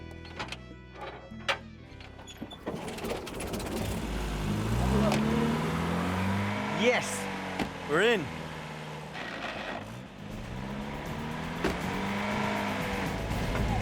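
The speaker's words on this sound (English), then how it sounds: "it's just a case of wrestling the stubborn old engine back to life" Stubborn old boat engine in the Amazon jungle being restarted after an air bubble in the fuel line, with several sputtering attempts before it catches and revs in rising, wavering whines, close and loud, with a person briefly speaking over it.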